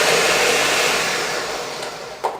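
A countertop grinder blends fresh garden basil pesto with Romano cheese in a steady, loud whir that eases off toward the end and stops with a short knock.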